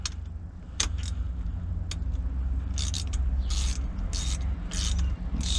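Socket and ratchet clicking and metallic rattles as a spark plug is threaded into a MerCruiser boat engine, a series of short close clinks and ticks over a low steady hum.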